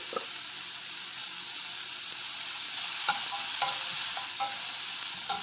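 Sliced onions with turmeric powder and salt sautéing in a pan for shark fish curry, a steady close sizzle with a few brief stirring scrapes toward the end and no voices.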